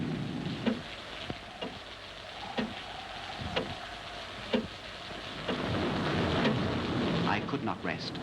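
A stormy night soundscape of rain falling steadily with repeated sharp cracks and rumbles of thunder, the downpour swelling louder toward the end while someone narrates over it.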